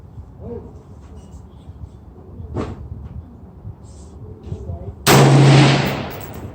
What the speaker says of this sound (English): I'm shooting at 75 yards. First up is 223. I'm gonna be shooting at the left upper target. 3 shots, and here we go.